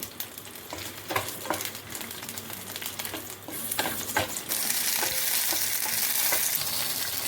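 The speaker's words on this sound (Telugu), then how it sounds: "నూనెలో బాగా వేయించుకోవాలి. అలాగే ఎండుమిర్చి కూడా వేసుకోవాలి ఇందులో." Dried red chillies, added after green chillies, crackle in oil for thotakura pachadi, a busy crisp sizzle with sharp pops and spatula scrapes that swells into a steady loud hiss in the second half.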